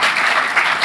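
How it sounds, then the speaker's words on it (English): A short burst of audience applause, dense clapping from many hands, loud and close. "Can we give them a round of applause?"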